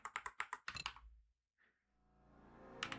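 Fingers type on a Keychron computer keyboard in a quick burst of close, crisp key clicks. A short pause with a faint tone follows, then another brief flurry of keystrokes.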